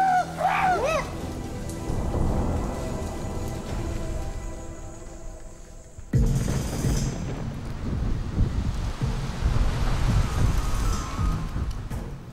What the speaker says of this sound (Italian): finalmente il cielo si apre, riversando vento e pioggia sulla savana boscosa di Fongoli